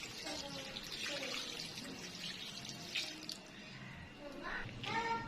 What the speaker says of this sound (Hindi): यखनी हम इसमें अब डालेंगे।